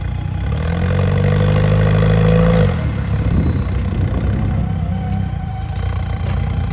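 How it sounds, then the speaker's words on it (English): An off-road rock crawler's engine revs with a rising turbocharger whine, holding for a couple of seconds before dropping back to a rough, close idle rumble with some mechanical clunks. "Turbocharger spooling up a little bit, adjusting the transfer case again there"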